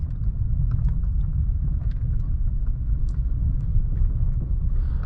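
A 2015 Mercedes-Benz S550 pulls off onto the road, heard from inside as a steady, low engine and road rumble that holds evenly throughout with no talking.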